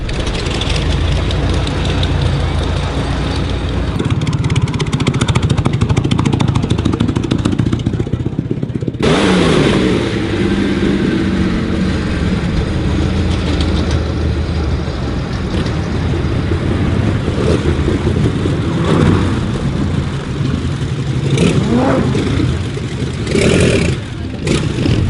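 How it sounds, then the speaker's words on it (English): Pre-1939 racing cars, Bugattis and Maseratis, driving on a track, loud raw engines roaring and revving continuously as the machines pass close, with a sharp change around nine seconds as another car takes over. "machines that raced up to 1939 went out on track to qualify for the Varzi Trophy"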